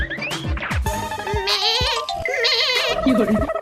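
A baby goat bleats repeatedly in short, wavering, high cries, loud and close, mixed with brief vocal sounds that may come from a person.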